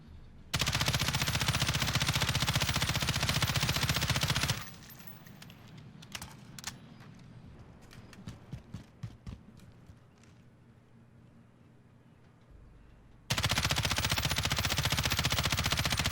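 M13 rifle in Call of Duty Modern Warfare being test-fired: a short burst of sharp, rapid shots in the middle, set between long stretches of loud, steady game noise.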